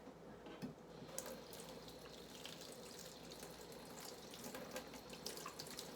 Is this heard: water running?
yes